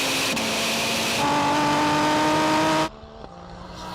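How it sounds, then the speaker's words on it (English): Volkswagen Golf R tuned to about 1,000 hp in a drag race, its engine droning loudly with a rising note that shifts up once before cutting off abruptly near the end. "Oh, the Golf's coming now."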